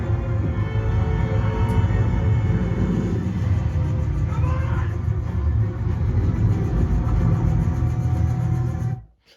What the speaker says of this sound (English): these back two speakers, they're playing, for example, the helicopter's whirring sound